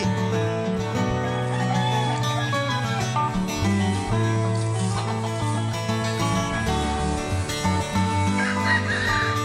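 Chickens cluck and squawk nearby, with agitated calls over a busy background of other sounds and music-like tones throughout.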